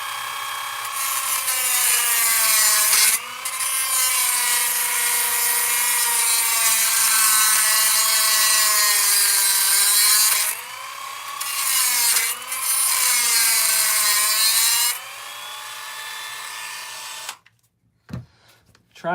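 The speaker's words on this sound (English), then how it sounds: "Trying not to grind into it too much because I don't want to grind into the ball." A rotary grinder cuts into an RC car arm near the ball joint on an HPI Savage 25, a loud, high whining grind with shifting pitch, broken by short pauses before it stops near the end.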